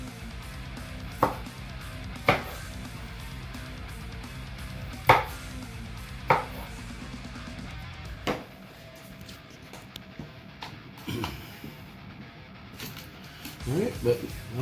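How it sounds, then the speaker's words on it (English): Several sharp knife chops on a cutting board as cherry tomatoes are cut, spaced irregularly, with a steady hum of music or background noise underneath. "finish chopping up these tomatoes for this filling"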